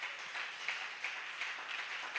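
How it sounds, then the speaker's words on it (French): A church congregation applauds steadily at a pastor's call, a dense wash of many hands clapping throughout, moderately loud and without pause, with no speech over it. "Acclamez d'abord très fortement."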